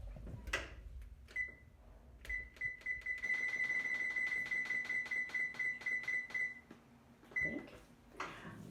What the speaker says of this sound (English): Let's first go ahead and preheat our oven to 450 degrees